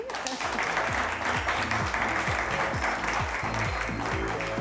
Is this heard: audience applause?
yes